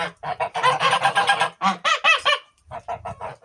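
Geese honking loudly and close by, a dense run of harsh overlapping calls followed by a brief pause and a few more honks.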